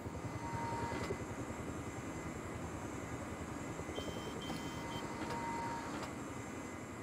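A helicopter in the video game Rust flies overhead with a low, rhythmic rotor chop under a broad engine drone, steady and fairly distant throughout, with a few faint tones and clicks on top.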